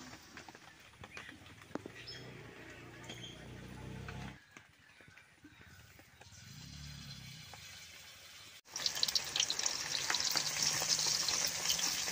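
Water lily fritters crackle and fry in hot oil, a steady busy sizzle that dips briefly mid-way, then swells into a louder, brighter spatter toward the end.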